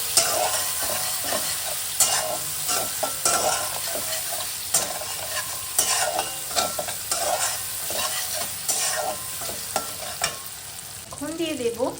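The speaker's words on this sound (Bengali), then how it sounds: "এবার মশলাটাকে নেড়ে চেড়ে নিচ্ছি।" Chili and coriander powder being stirred in a sizzling pan for a spinach curry, repeated scraping strokes of a spatula over a constant fry, close and clear, with a brief squeaky sound near the end.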